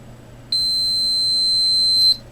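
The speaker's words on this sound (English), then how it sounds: "the meter responds and the buzzer is also on" A steady, high-pitched electronic buzzer sounds loudly for about a second and a half, then cuts off, over a faint background hum.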